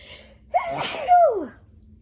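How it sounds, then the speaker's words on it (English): A single loud sneeze, close up, with a sharp gasping intake followed by the forceful burst and a trailing exhale. "I have to sneeze."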